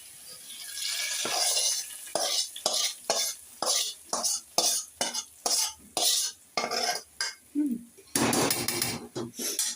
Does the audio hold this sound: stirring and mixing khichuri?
yes